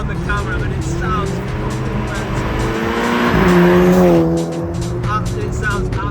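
A loud, high-revving engine of a stage 2 tuned Mk5 Volkswagen Golf GTI screams and rises through its exhaust, with rhythmic gear-change bursts and tire noise, as a voice speaks briefly over it.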